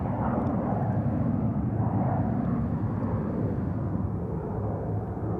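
A Boeing 717 jet departing Sydney Airport at night, heard as a loud, steady broadband engine roar that holds for several seconds and eases slightly at the end, with no talk.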